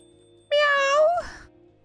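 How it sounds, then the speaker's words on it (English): A single drawn-out cat meow of about a second, clear and close, from a local cat in the video game Coffee Talk 2, heard over a quiet steady background tone. "If I'm not mistaken, this is a local cat."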